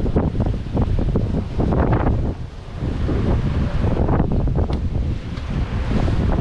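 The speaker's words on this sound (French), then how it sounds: "dehors, ça mouille, ça souffle." Strong gusting wind buffets a sailboat sailing solo at sea between the Canaries and Cape Verde, roaring and rushing in surges with breaking waves mixed in, close and loud.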